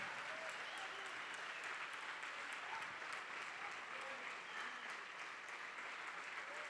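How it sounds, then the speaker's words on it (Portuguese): A church congregation applauds steadily and densely throughout, a broad even wash of many hands with no break, with a voice faintly present beneath. "Vamos aplaudir mais, igreja."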